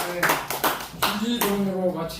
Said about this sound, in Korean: 박수를 함께 영광 드리겠습니다.